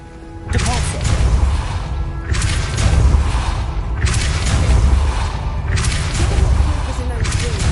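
Depulso spell cast in the video game Hogwarts Legacy, a loud, heavy game effect of repeated booming blasts and crashing bursts in bursts of roughly a second, with a voice talking beneath.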